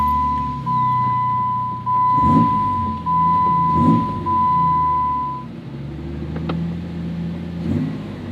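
A Jeep Wrangler Rubicon engine idling and being blipped in a throttle test, several short revs rising and falling over a steady tone, close and loud with no talk.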